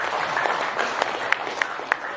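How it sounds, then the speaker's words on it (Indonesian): Delegates at a workers' union national congress give a short round of applause, a busy patter of many hands with a few sharper claps standing out, fairly close and steady. "Tepuk tangan keprihatinan untuk kita semua."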